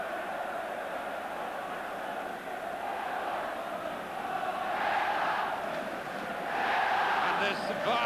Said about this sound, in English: this vast Villa crowd roaring the team on